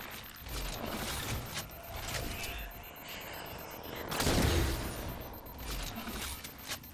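Shotgun blasts and gunfire from the video game Halo 4 ring out over ambient game noise, with one heavy burst standing out near the middle among scattered fainter shots.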